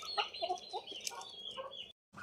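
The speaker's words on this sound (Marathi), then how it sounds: "तर बघा किती आवडीने लसूण खातात मित्रांनो गावठी कोंबड्या." Free-range country chickens cluck and squabble while pecking at garlic, a steady run of short clucks and calls at close range before a brief pause.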